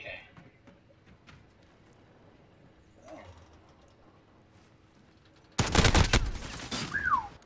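A rapid, loud burst of AK rifle fire erupts in a competitive shooter match after a quiet stretch with faint clicks, a sharp rattling volley near the end.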